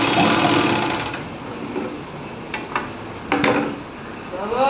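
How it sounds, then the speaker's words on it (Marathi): An overlock sewing machine runs at speed with a steady whirring buzz, slowing briefly with a few clicks before speeding up again. "ही आहे ओरलॉकची मशीन"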